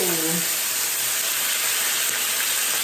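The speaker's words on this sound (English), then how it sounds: "This is going to sizzle." Steady, loud sizzling of chicken frying in hot olive oil, a continuous bright hiss from start to finish, with a brief low voice at the very beginning.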